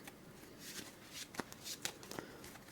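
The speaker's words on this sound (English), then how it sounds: "So let's shuffle that as well." Cards being riffled and shuffled close by, a series of soft papery rustles with a few sharper snaps as the deck bridges.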